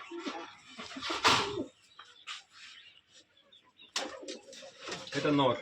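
Colour-matched pigeons cooing in a loft, soft throaty calls mixed with bursts of flapping and shuffling, with people talking nearby.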